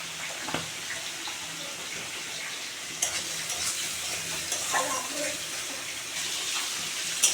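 Spice paste for a tomato pabda fish curry fries in oil, a soft, steady sizzle with a few faint stirring scrapes, heard close but quietly with no speech.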